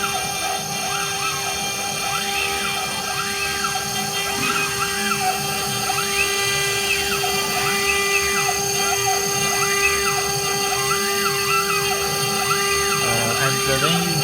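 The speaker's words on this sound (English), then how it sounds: "We can see the spindle starts to run" A CNC router spindle whines steadily at high pitch with a tonal hum, while a motor sweeps up and down in repeating rises and falls, continuous and fairly loud throughout.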